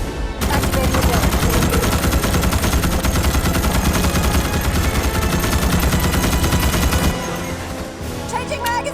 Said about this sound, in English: Activating the gun.